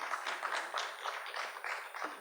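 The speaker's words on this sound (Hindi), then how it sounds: "हम जोरदार तालियां उनके स्वागत में बजाएं" Faint, distant applause from an audience at a Kavi Sammelan poetry event welcoming a poet onto the stage, a steady patter of many hands clapping for about two seconds with no talking.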